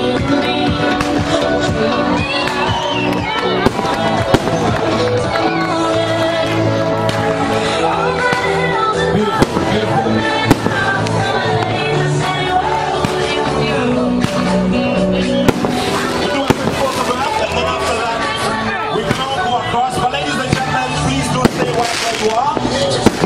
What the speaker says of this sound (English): Beautiful fireworks going up in the sky